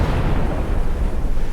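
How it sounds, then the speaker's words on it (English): Deep rumbling thunder rolls steadily through a storm, a loud continuous low boom with no voices over it. "lightning bolted from cloud to cloud with booming thunder and wind howling"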